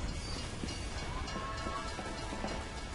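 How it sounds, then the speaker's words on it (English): A train rushes past in the video game Team Fortress 2: a dense, steady rumble and roar that holds at a constant level throughout, with no talking. "And the train's coming."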